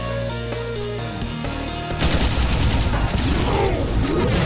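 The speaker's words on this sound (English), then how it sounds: "we're probably greeted by an assassin who blows up both the walls with his dual plasma cannons" Dual plasma cannons in the game Iji blast apart walls, a sudden loud burst of rapid, crashing explosive fire following a tonal musical passage, sustained and dense to the end.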